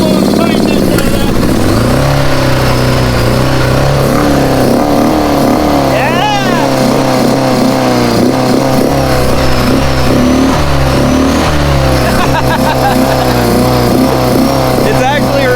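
An old Honda Goldwing motorcycle engine runs loudly and close by, a dense continuous roar with uneven pulsing and slight rises in pitch, while people talk over it.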